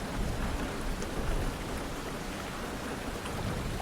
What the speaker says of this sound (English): may the rain calm your restless thoughts and keep the shadows at bay